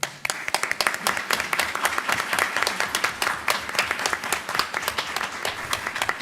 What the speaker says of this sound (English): good round of applause for our student, Unique Powell